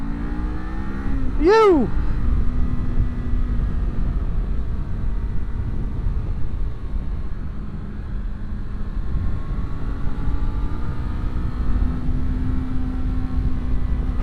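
A Kawasaki Z500 motorcycle rides through corners: a steady engine drone with a sharp rising-and-falling whine early on as it leans through a bend. A voice briefly calls out once.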